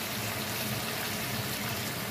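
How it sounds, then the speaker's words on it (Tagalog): Water poured into a cooking pot of beef spare rib soup, a steady, even splashing rush that continues unbroken throughout, with no voices. "Dagdagan ko pa ng tubig guys kasi malapit pa siya."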